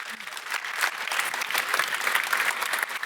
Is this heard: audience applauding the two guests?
yes